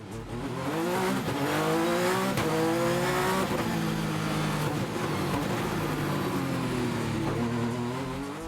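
Sébastien Loeb's rally race car on the 2013 Pikes Peak climb, braking and accelerating through tight hairpins, with the engine note rising and falling repeatedly and brief tire squeal, loud and close, no voices.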